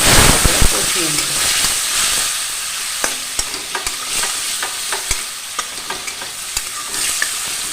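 Spices with coriander powder and a splash of water are sautéed in a pan, a continuous close sizzle punctuated by repeated sharp spoon taps and scrapes as the mixture is stirred.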